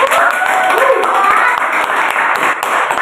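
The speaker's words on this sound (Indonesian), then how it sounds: "Mungkin bisa tepuk tangannya nggak sih?" Steady applause from a crowd fills the whole moment, a dense, continuous patter of clapping at a loud, even level.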